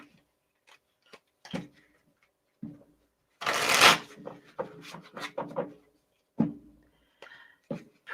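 Tarot cards being shuffled at a table for a card pull, with scattered soft riffles and taps building to one louder burst of rapid shuffling mid-clip, then a few more short handling sounds, close by with no talk.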